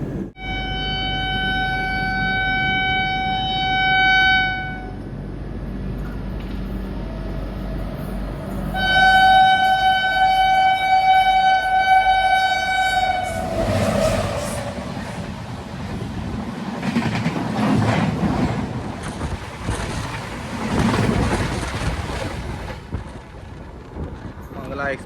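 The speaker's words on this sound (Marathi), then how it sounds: "Mangala express crossing" The Mangala Express passing on the railway line, heard from aboard another train: two long loud horn blasts followed by a rushing roar and rhythmic clatter of carriages going by close, with a voice talking over it.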